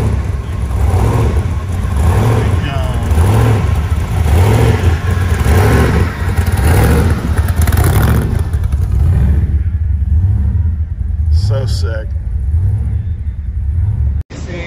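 Truck engine rumbling loudly at close range with pulsing revs for about nine seconds, then dropping away to a quieter idle with faint clicks.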